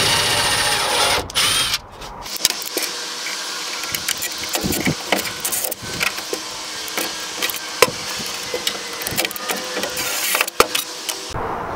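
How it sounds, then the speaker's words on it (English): A power drill bores pilot holes in wood for a farm table, with short whirring bursts and clicks, spaced apart and close by, and no speech. "just gonna drill some pilot holes"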